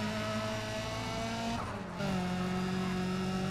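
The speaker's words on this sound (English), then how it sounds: "I should use my nitrous. Oh, I can use it now." Racing car in Need for Speed ProStreet surging as nitrous boost kicks in, a steady loud engine drone that shifts upward in pitch midway with a brief whooshing dip, alone without talk.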